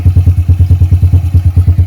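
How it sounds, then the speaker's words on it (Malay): A Honda EX5 motorcycle with a racing CDI set to map 9 runs rough at idle, its engine close and loud with a fast, uneven pulsing beat and no talking. "bahagian dalam enjin tu bunyi kasar sedikit lah"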